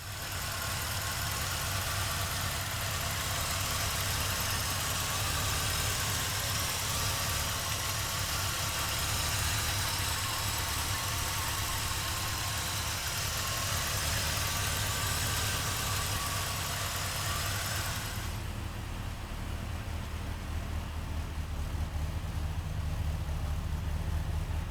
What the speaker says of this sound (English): let's take a listen to the numbers matching small block under the hood.